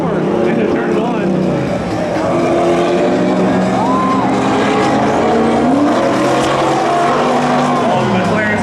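Cars roaring off the line at a spectator drag race, loud engines revving and droning continuously with shifting pitch, with a commentator's voice running over the engine noise.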